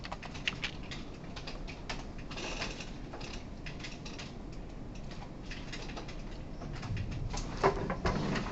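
Keyboard typing in a lecture room, many students tapping computer keys at once as a steady, dense patter of faint clicks spread throughout, with no talking.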